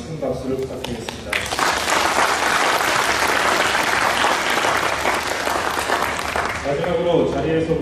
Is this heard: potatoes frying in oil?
no